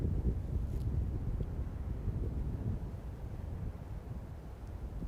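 Steady, low rushing desert wind over sand in the United Arab Emirates fills the whole stretch, a dull continuous roar with no voices and only faint shifts in strength.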